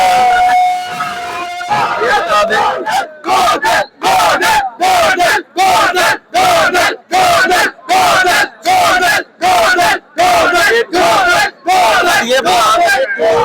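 A large crowd at a Lahore High Court election chants political slogans for Khan, loud rhythmic shouted bursts repeating about once a second, with short gaps between them.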